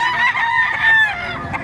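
A rooster crows loudly and close at an open-air gamefowl market in Mantalungon, Cebu, one long strained call that holds steady for almost two seconds and stands out above faint market noise.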